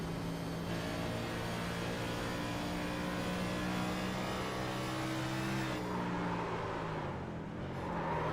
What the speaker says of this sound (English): take a listen to the throttle input of the 16